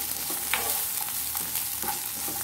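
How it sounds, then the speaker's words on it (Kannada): Capsicum and mixed vegetables frying in a pan for masala macaroni give a steady, dense sizzle throughout, with faint stirring scrapes now and then. "ಇದು ಕ್ಯಾಪ್ಸಿಕಂ ಹಾಕಿ ಇದನ್ನ ಫ್ರೈ ಮಾಡ್ಕೊಳ್ಳಬೇಕು"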